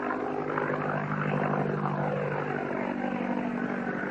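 A World War I airplane powered by an OX5 V8 engine of about 85 to 90 horsepower flies overhead with a loud, continuous propeller drone whose pitch bends gently as it passes.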